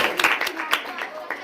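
An audience at a school TLM fair prize ceremony claps for a primary school winner, producing a brief patter of clapping mixed with a voice speaking over it.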